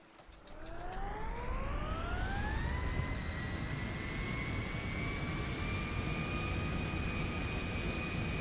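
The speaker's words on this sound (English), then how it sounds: "let's turn on the engine" A fixed-wing military transport aircraft's engines spool up in GTA 5, a rising turbine whine climbing steadily for about three seconds and then holding at a loud, steady pitch over a broad engine roar.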